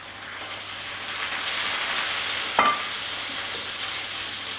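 French toast Monte Cristo sandwiches sizzling in a hot pan, a steady close frying hiss with a brief clatter midway as the pan or utensil is moved.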